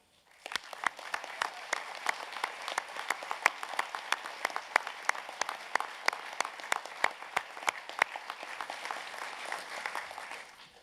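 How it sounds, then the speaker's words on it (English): Graduates at a university graduation ceremony break into a round of applause, dense steady clapping from a large crowd filling the hall, swelling quickly and holding for about ten seconds before tapering off. "give yourselves a special round of applause for achieving what you have"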